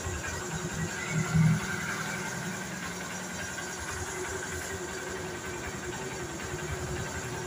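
A Honda CB Shine 125 motorcycle engine idles with a steady, faint mechanical hum and slight vibration, with a brief bump early on and no talking.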